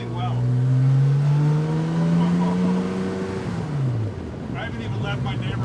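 A Porsche engine pulls on a first drive after a major drivetrain upgrade, with a sustained, rising engine drone that dips as the car shifts, heard from inside the car, while someone talks over it.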